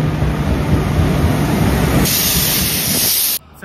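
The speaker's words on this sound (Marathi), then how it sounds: "रत्नागिरी दिवा पॅसेंजर थोड्या वेळात प्लॅटफॉर्म क्रमांक 1 वर येत" Ratnagiri–Diva passenger train pulling in to platform 1 at Kadvai station: a loud, close, steady rushing roar that holds for over three seconds, then cuts off abruptly.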